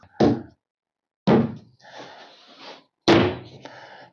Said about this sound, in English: How about if you just give it a knock where your screws are?